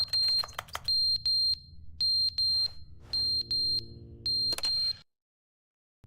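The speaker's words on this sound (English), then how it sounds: "Fire detector. Smoke alarm." Smoke alarm in The Stanley Parable video game chirping in repeated short double and triple high beeps for about five seconds, loud and clear over a low hum, then cut off into silence.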